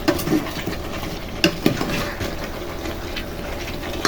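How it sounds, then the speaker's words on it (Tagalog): Scraping and clinking of a spoon stirring food in a pot, with a couple of sharper knocks against the metal amid a low sizzling background. "Haluin lang natin."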